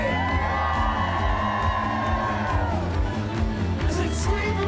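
Festival crowd at a folk music festival screaming, whooping and cheering loudly in a sustained roar of many voices, with shouts rising over the din.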